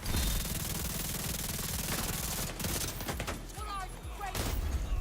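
Rapid gunfire from golden bullets in The Division 2 rattles in dense bursts, loud and close, breaking off midway with scraping movement sounds before the firing resumes.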